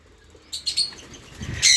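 Pet birds in a cage, giving a few short bright chirps in quick bursts with a brief pause between, fairly close and clear over a quiet background.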